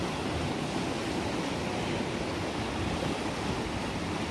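Rough ocean surf breaks and washes along a shore in a dense, continuous roar with wind mixed in, loud and unbroken, with no voices.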